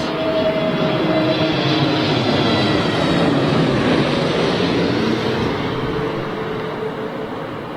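An Airbus A320neo airliner at London Heathrow, heard as a loud, steady roar of jet engines that holds for several seconds, then eases slightly at the end, with no voices.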